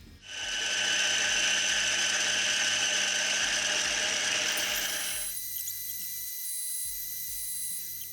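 A manual lathe in a machine shop runs with a loud, steady mechanical whine and hum while turning a taper on a flipped part, then the tone drops as the cut ends, leaving a quieter hum with faint high ringing.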